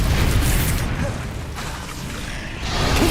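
A Bombarda spell explosion in the Hogwarts Legacy game, cast inside a cave maze: a loud, broad roaring boom that fades into rumbling debris, then swells again.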